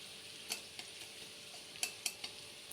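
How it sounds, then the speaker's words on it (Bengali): Chopped onions and green and ripe chilies with a pinch of sugar fry in a pan, giving a quiet steady sizzle broken by a few sharp scrapes and clinks of stirring. "পেঁয়াজটা লাল লাল করে ভেজে নেব"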